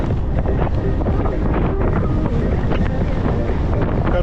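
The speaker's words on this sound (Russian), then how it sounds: "Вот сейчас теперь ветер" Cold wind blusters steadily and loudly across an exposed outdoor spot on a Crimean road trip, a continuous roaring rumble buffeting the microphone with no pauses.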